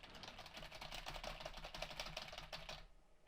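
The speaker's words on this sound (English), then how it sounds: "so now I'm typing. It's a bit aggressive the way I'm typing." Someone types hard and fast on a computer keyboard, picked up by a Samson Q2U microphone, giving a dense run of sharp key clicks that stops abruptly near the end; quiet overall.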